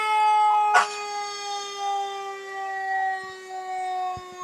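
A loud, steady siren tone holds throughout as the Grafton Fire Department ladder truck passes in a Fourth of July parade. It opens with a sharp blast of an air horn, and faint crowd sounds drift beneath.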